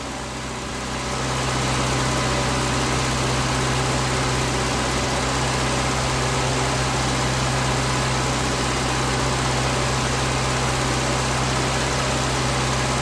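A car engine idles on diesel poured in place of its drained engine oil, a loud, steady, close mechanical drone with constant vibration that rises in the first second and then holds unchanged with no voices.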